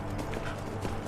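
Horse hooves clip-clopping at a steady pace while riding along a road in Skyrim, close and fairly loud over a low ambient bed.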